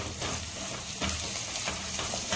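Onions sizzle and sauté steadily in a pan while mutton intestine gravy is being cooked. The frying is soft and continuous, with faint stirring scrapes and no talking.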